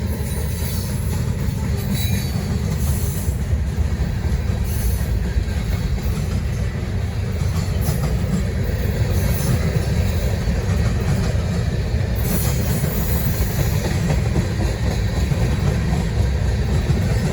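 A heavy Norfolk Southern freight train on the Charlotte District rumbles past close by, a loud continuous roar of rolling cars with rhythmic wheel clatter and occasional squeal, no voices over it.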